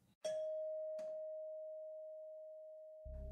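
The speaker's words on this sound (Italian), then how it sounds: "Questo suono del campanello è insistente" A doorbell rings in a quiet indoor setting, sounding two clear strikes whose pure tone then rings out long and steady before a short low buzz at the end. No one speaks.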